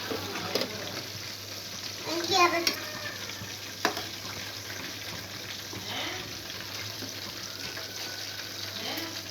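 Half-cooked Chettinad chicken fry sizzles steadily in a pan while the pieces are turned over, with a few scraping stirs breaking through the constant frying hiss.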